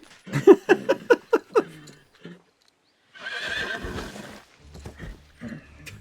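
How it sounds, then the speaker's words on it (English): A horse neighs loudly and close in the Kingdom Come: Deliverance 2 video game, a quick series of about six whinnying pulses. A burst of rough noise follows after a short gap, and faint sounds trail off at the end. "I just killed a horse"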